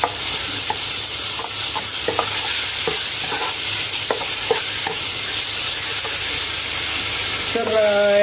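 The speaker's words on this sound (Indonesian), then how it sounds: "Saya masukkan bahan yang sudah di blender." Blended spice paste, with lemongrass and galangal, sizzling and spattering steadily in hot oil for a fish and round purple eggplant curry, with a spoon stirring and scraping the pan up close throughout.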